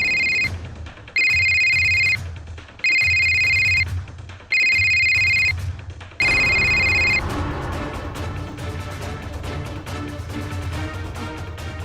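A telephone rings in four regular electronic bursts, then the ring carries on under a busier background for the rest of the stretch.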